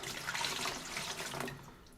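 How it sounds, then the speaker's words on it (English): Water pouring from a jar into a bucket, a steady splashing trickle heard close by that thins out toward the end, with no talking. "let me drain some of this water out. I got a bucket here."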